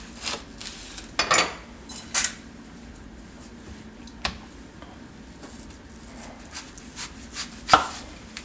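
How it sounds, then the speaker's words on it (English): Knife chopping through an onion on a cutting board, a handful of sharp close cuts spread irregularly among quieter taps, with no talking. "That way it'll be safer to actually cut it like this."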